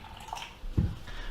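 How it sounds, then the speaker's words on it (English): Kangen water poured into a container for a pH probe test, a short splashing pour rising in the middle of an otherwise quiet moment. "I'm just going to pour a bit in here."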